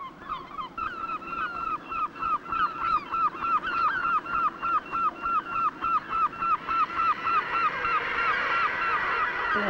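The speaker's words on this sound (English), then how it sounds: "There must be hundreds of birds there" Hundreds of seabirds, mainly auks with gulls and a shag, crowd the sea stacks on the west coast of Rathlin, calling in a dense, rhythmic chorus of repeated harsh cries that builds into a continuous din.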